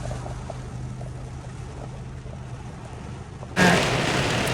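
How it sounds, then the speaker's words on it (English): Heavy rain pouring down during Hurricane Idalia at Walt Disney World: a steady, loud wash of rainfall with a low hum beneath it, which suddenly grows much louder and brighter toward the end, close by. "now it is just dumping rain"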